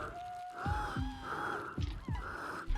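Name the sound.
scared character heavy breathing in Ghost Master video game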